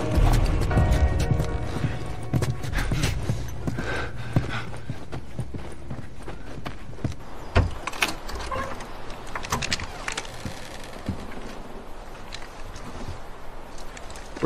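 Horses' hooves clip-clop in the video game The Last of Us, a steady walking rhythm of fairly close hoof falls heard alone over soft background game sound.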